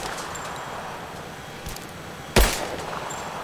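One sharp pistol shot fires at a drone in Rise of the Tomb Raider. It is a single loud crack near the end, after faint rustling game ambience, with no talking.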